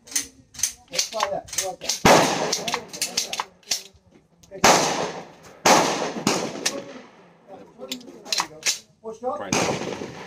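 A Stribog SP9A3 9mm carbine fires a string of loud, sharp shots outdoors, some single and some in quick pairs, with echoing tails. A voice talks between and under the shots.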